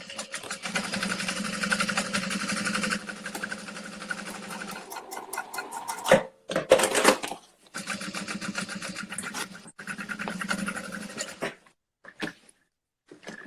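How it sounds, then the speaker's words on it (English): A sewing machine topstitches through the exterior of a peek-a-boo beauty bag in steady motorized runs, broken by short pauses and brief handling noises before it starts stitching again, fairly close and with no talk over it. "I'm just going to also top stitch through the exterior all the way."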